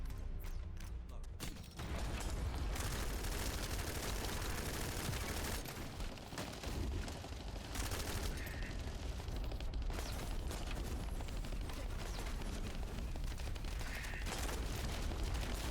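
Dense gunfire in The First Descendant video game, sustained bursts of shooting and impacts running almost continuously at loud, even level with little pause.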